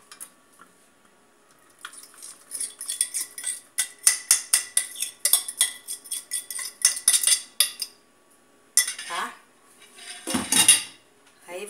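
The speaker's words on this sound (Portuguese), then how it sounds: "Você vai despejar na panela." Mashed banana poured into a pan: clattering of a utensil and pan with scraping and soft thuds, a busy run of kitchen clinks followed by a couple of louder scrapes near the end.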